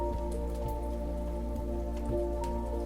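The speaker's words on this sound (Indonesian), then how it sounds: "ketika hujan turun dengan lembut seperti irama musik alam" Gentle rain falls steadily on a surface, a continuous soft patter of drops with occasional closer drips, under a low steady hum, with no voices.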